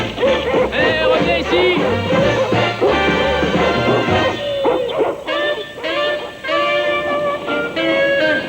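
Military dogs barking and yipping in a loud, busy mix with dense music-like tones, the barks recurring steadily throughout and a brief crash-like burst near the middle.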